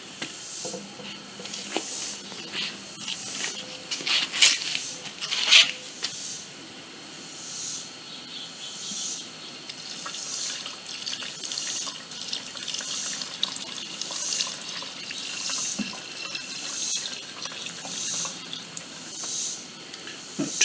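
Fuel is poured from a container into the tank of a WEN 56225i generator, a steady trickling splash with hissy gurgles and a few louder spurts early on, close and continuous.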